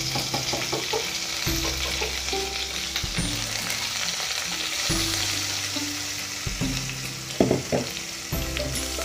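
Mustard seeds and curry leaves fry in hot oil, giving a steady close crackle and sizzle with sharp popping bursts and occasional stirring clatter, no voices.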